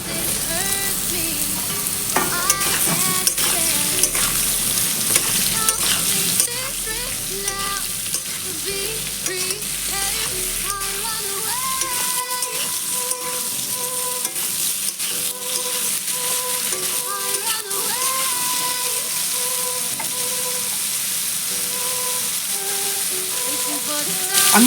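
Chopped ridge gourd goes into a pan of potatoes frying in oil, setting off a loud, dense sizzle with stirring clatter that settles into a steady crackle over about twenty-five seconds.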